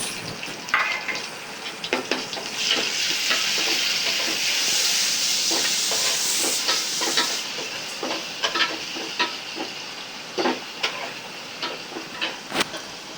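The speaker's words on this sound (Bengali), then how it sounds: "এখন নাড়াচাড়া করতেছে।" Prawns stirred and fried in a pan give off a loud, hissing sizzle with scattered clicks and scrapes of the spoon, busier near the start and thinning to sharper taps later; nobody speaks.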